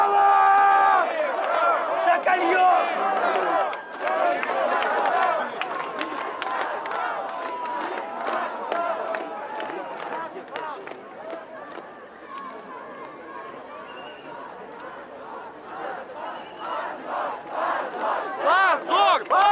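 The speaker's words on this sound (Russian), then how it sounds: "Ой, как громко все кричат" A large crowd at a street rally in central Sochi shouts slogans in loud unison, rising and falling in rhythmic chants with scattered cheers and running voices, close and filling the scene.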